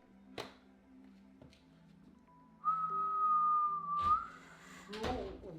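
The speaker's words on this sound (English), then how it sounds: "Whistle." A person whistles one sustained note for about a second and a half, with short voice sounds and clicks scattered around it in a quiet room.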